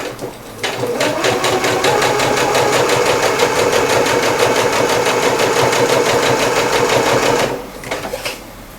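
A sewing machine runs steadily while stitching the hem of a black scuba pencil skirt, its fast even motor whir holding for about seven seconds before stopping, with no talking over it.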